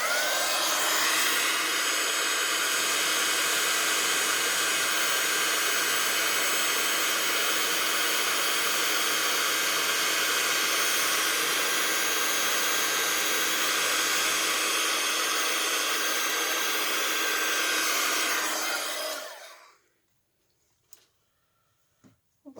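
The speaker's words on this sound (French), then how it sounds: "faire chauffer un peu mon heat gun" A heat gun blasts hot air for embossing greeting cards, a loud steady broadband whoosh held for about nineteen seconds before it cuts off, leaving a few faint clicks in near silence.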